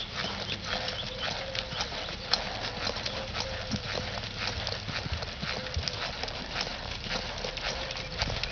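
Steady clip-clop of a nearly five-year-old gelding's hooves on a hard surface, continuous and fairly close, with some background noise and a dog faintly present.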